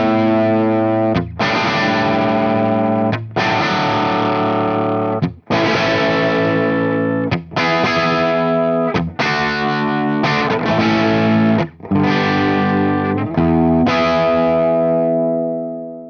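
Electric guitar played through a Marshall Origin 20 amp head, with highs shaped by the presence and tilt controls, ringing out loud, distorted chords in a series of sustained strums separated by brief gaps, with no talking.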